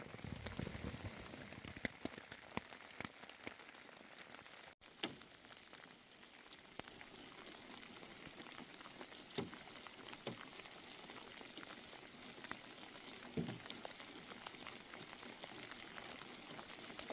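Steady rain falls outdoors at a campsite in the Adirondacks, a close, dense patter on surfaces that holds constant throughout with occasional sharper drips and no voices.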